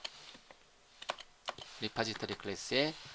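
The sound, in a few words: typing on a computer keyboard, pressing Tab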